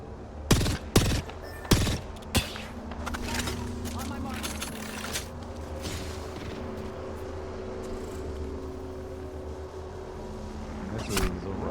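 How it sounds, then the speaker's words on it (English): Gunfire traded in Apex Legends during an ALGS APAC North qualifier match: a few sharp bursts of shots early on, then a steady game-noise bed with a commentator talking over it and a final loud burst near the end. "Just perching on top of a rock here, looking to exchange some shots"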